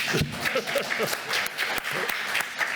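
An audience at a forum on financing cryosphere action breaks into applause, many hands clapping in a steady, moderately loud patter that runs the full length without speech.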